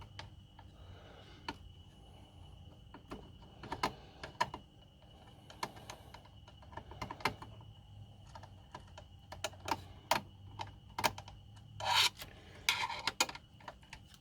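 Screws being unscrewed from a Sony SLC9UB VCR during a power supply repair, with scraping, rasping turns and small metallic clicks and taps, close and intermittent in a quiet room.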